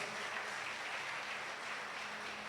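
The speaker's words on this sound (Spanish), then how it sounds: "Puede darle un aplauso al Señor." Distant church congregation applause, a steady wash of many hands clapping at low volume with no pauses.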